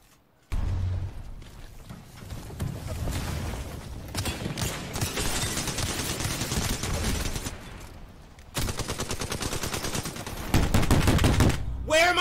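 Dense automatic gunfire in Apex Legends, rapid continuous bursts of shots crackling loud and close, briefly pausing before resuming heavier, with a voice faintly mixed underneath.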